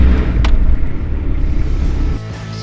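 A car crosses the border from Ukraine into Poland at night, a steady low engine and road rumble that holds throughout, dropping to a quieter idle near the end.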